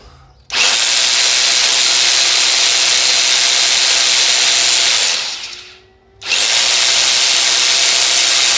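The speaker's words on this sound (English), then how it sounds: "So let's try the drill." A loud electric drill, powered by a 1 kW 12 V DC low-frequency inverter under load, runs steadily for several seconds, winds down briefly, then starts up again at full speed.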